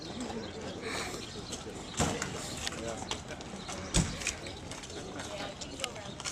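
Racehorse hooves walking on a racetrack, soft clip-clop steps at a distance, faint under people talking nearby, with a couple of sharper knocks.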